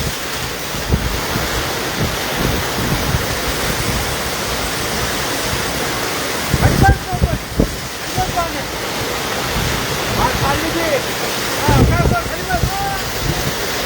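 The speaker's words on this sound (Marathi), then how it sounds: "हजारो फुटांवरून कोसळणारा धबधबा तुम्ही बघू शकताय" A waterfall plunging from thousands of feet roars as a loud, constant broadband rush, with wind buffeting the microphone and voices speaking briefly over it.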